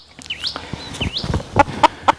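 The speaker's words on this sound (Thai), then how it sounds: "นี่คือ ไก่ตัวเมียนะครับ หูขาว" Small Japanese white-eared hen giving a few soft, close clucks, ending in three distinct sharp calls spaced evenly apart, with faint chirps at the start.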